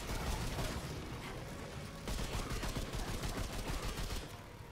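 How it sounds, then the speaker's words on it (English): Explosions and gunfire in the video game Remnant 2, a dense, continuous barrage of crackling blasts and rapid impacts filling the whole stretch at a steady, fairly muted level. "I don't know why there's explosions."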